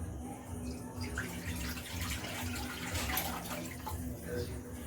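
Tamarind soaking water is poured into a kadai holding mashed tomatoes, making a steady, moderately loud splashing and trickling wash that runs continuously for several seconds.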